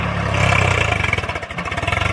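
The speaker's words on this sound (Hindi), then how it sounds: "ट्रैक्टर हो गया स्टार्ट, अब चल दिए हैं" A tractor's diesel engine chugs steadily close by as it starts and drives, pulling a trolley loaded with sugarcane, with a rhythmic low throb and rattling clatter, no voices over it.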